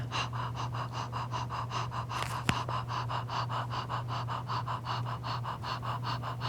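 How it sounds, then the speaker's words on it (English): Rapid, even panting breaths of a breathing exercise for singers, about a dozen short huffs per few seconds, close and steady over a constant low hum, with one brief sharp click midway. "and we pant."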